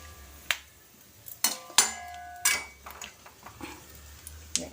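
A metal tempering pan clinks against a pot while the tempering is poured into small onion sambar, with several sharp, ringing metallic taps spaced irregularly over a quiet kitchen background.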